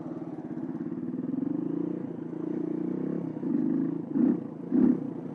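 Motorcycle engine revving and pulling from low speed in sixth gear, a steady rumbling drone with two sharper throttle blips near the end, close and fairly loud.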